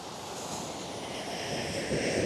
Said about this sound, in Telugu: ఇక్కడ ఈ రాళ్ళ దగ్గర అయితే చూడండి వాటర్ వచ్చి ఎలా తాకుతున్నాయో.